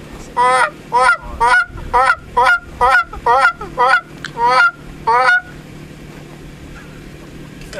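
A person imitates a Canada goose with a goose call, about ten loud, close honks in a quick steady rhythm, then stopping into quiet outdoor background.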